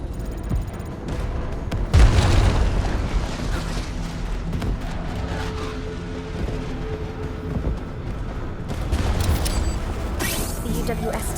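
Artillery strike from the UWST in Arknights: Endfield, a series of deep booming explosions and rumbling impacts at moderate distance, layered under ongoing game dialogue and effects.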